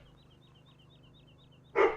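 A dog gives a single short, loud bark near the end, breaking through faint electronic game sounds in the background.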